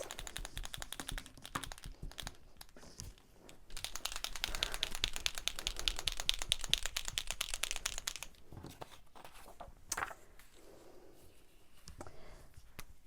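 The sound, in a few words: shaking a Posca paint marker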